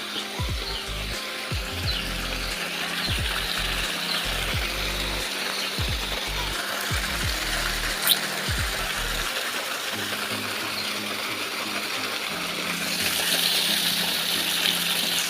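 Water pours steadily into a village pond, a continuous broadband rush that holds fairly even throughout and swells slightly louder near the end, with faint low knocks in the first part.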